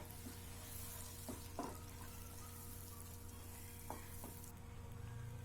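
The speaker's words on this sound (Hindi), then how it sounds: "आप मसाले को थोड़ा चला के भून लीजिए।" Dabeli masala stirred and roasted in a pan gives a quiet, low sizzle, broken by a few soft scrapes of the spoon against the pan, with no one speaking.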